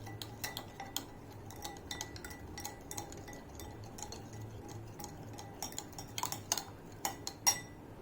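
A spoon scrapes and taps in a bowl while paneer is mixed with sauce for chilli paneer, a quiet, irregular series of small clinks and ticks spread across the whole stretch.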